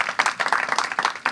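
An audience claps for standing Capstone students at a class ceremony, a short burst of many hands clapping in a quick, uneven rhythm at moderate distance.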